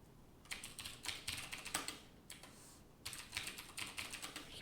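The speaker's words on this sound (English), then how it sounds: "Keep typing the same thing." Typing on a computer keyboard, bursts of rapid clicking keystrokes separated by short pauses, close and clear with no talking.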